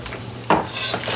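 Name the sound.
chopping frozen garlic puree with a knife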